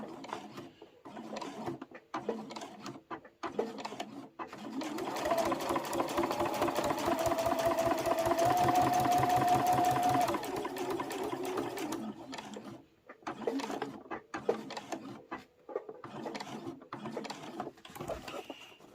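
A sewing machine stitches layer cake fabric squares, running in a fast continuous rattle for several seconds, with a few short starts and stops and handling clicks before and after.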